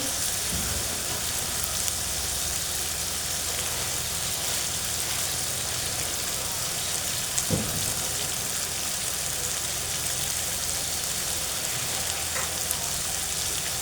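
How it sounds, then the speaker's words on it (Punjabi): Onion alone frying on low heat in a pan for a Punjabi arbi dish, a continuous soft sizzle with one brief clatter partway through, no talking. "ਬਸ ਇਕੱਲਾ ਪਿਆਜ਼ ਆ ਜਸਟ ਲੋ ਨੂੰ ਆਪਾਂ ਭੁੰਨ ਲੈਨੇ ਆ"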